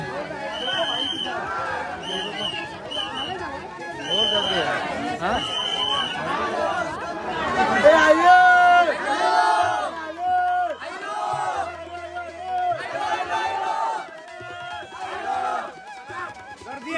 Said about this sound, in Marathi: खतरनाक गर्दी आहे आज. खतरनाक बेकार. पालखीला गर्दी असतं ना जत्राला तशी गर्दी.